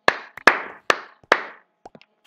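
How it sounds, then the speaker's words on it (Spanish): A single person clapping sarcastically, four sharp, close, evenly spaced claps each with a short ringing decay, followed by a few faint taps. "Aplausos para eso."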